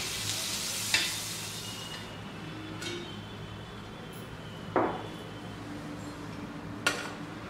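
A vegetable sandwich toasts in a pan under a soft, constant sizzle. Three sharp, brief scraping or clinking touches break in at intervals, with no voices.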